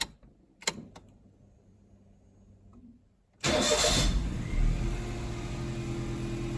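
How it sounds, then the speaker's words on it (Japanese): A Daihatsu Esse kei car engine, fresh spark plugs fitted, cranks and fires after a few quiet clicks, then settles into a loud steady idle that carries on close by. "なんだかエンジン始動が早い気がします。"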